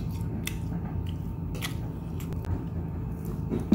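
Close, quiet chewing of chewy glutinous-rice chicken tangsuyuk, soft sticky bites and mastication over a low steady room background, no speech.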